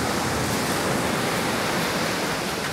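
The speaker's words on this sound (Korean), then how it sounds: "파도 소리가 아주 좋습니다." Ocean waves wash steadily onto the sand at Songho Beach near Ttangkkeut, a continuous broadband surf roar filling the whole stretch without pause, close and loud with no voices.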